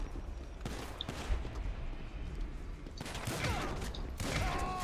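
Bursts of gunfire ring out in the video game Grand Theft Auto V, several separate volleys of shots over a low game background.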